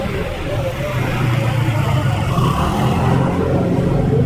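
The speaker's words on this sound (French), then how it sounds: "Il roule à vive allure pour rejoindre sa destination, le domicile d'un client pour lui remettre une livraison." A delivery driver's vehicle travels fast, its steady engine and road roar filling the whole stretch at a loud, even level with a slight rise toward the end.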